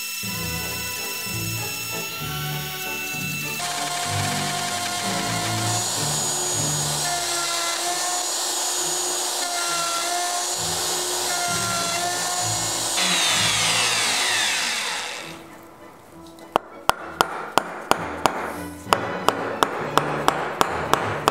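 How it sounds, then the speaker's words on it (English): A plunge router cuts wood for a door inlay, giving a loud, close, high-pitched whine that holds steady for about fifteen seconds, then winds down. A run of sharp taps follows. "Gotta love these plunge routers, they sure do make it easy."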